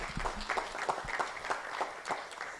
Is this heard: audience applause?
yes